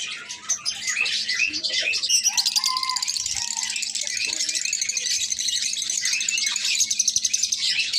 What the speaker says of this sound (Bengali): এখানে যে জোড়াটা দেখতেছেন চমৎকার এক জোড়া লাভবাট